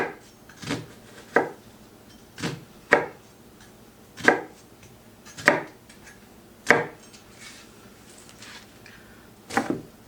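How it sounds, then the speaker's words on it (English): A knife chops an onion and zucchini on a cutting board, with about a dozen sharp knocks coming at an uneven, unhurried pace and quiet gaps between them. "all I have to cut up is an onion and some zucchini"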